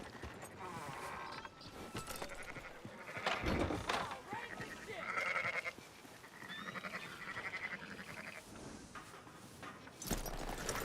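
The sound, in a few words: sheep bleating in the video game Red Dead Redemption 2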